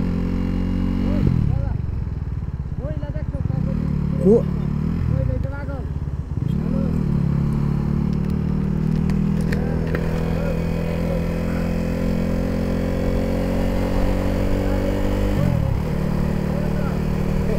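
A KTM RC 390 motorcycle drones steadily while being ridden, its engine pitch rising and falling through gear changes and revs, loud and close, with wind noise and a brief spoken word.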